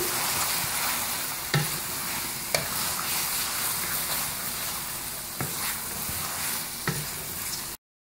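Mutton karahi with green chili and ginger sizzles loudly in a pan while a spoon stirs it, with sharp metallic scrapes and taps landing every second or so over the constant frying hiss.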